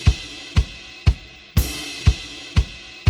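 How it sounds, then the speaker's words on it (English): Cymbal wash fading out, ducking and swelling back in time with a steady kick drum under sidechain compression, about two beats per second, each thud dipping the shimmer before it pumps back up; no voices. "listen to it duck out or pump a little bit every time the kick drum happens"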